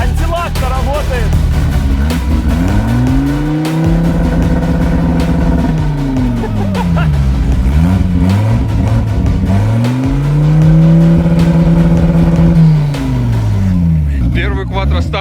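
A fully restored Audi S4 quattro launching hard from a standstill, its engine roaring loud and close as revs climb and drop through successive gear changes, with voices talking over it.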